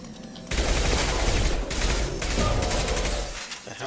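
Close, loud gunfire in Mass Effect 2 bursts in suddenly and rattles on as dense, continuous shooting mixed with crashing impacts, easing slightly near the end.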